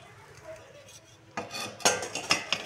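Sago khichdi being stirred in a pan: soft scraping at first, then a spoon clinks and rasps against the metal in quick, close, irregular strokes.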